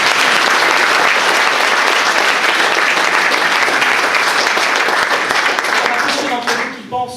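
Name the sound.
audience applauding at mayor's New Year address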